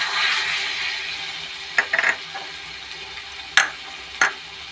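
Mustard being stirred into a frying pan: a soft continuous sizzle with a few distinct scraping clinks of a spatula against the pan, close and moderately loud.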